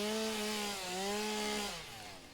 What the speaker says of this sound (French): Magnifique la tronçonneuse.